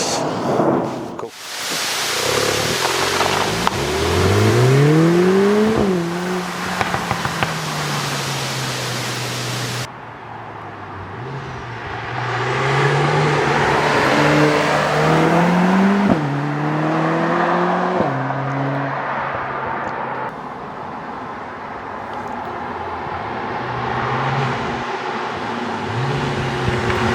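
A Lotus Emira i4 sports car driving and accelerating, the four-cylinder engine note rising through repeated gear pulls with shifts between them, heard continuously from inside the car over steady road and wind noise.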